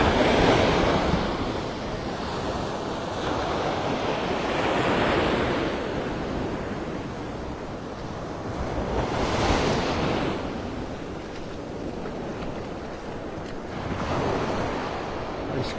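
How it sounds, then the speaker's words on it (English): Ocean waves break and wash on Vanderbilt Beach in North Naples, Florida, a continuous roar of surf swelling in repeated surges every few seconds, with wind buffeting the microphone throughout. "I love listening to the waves"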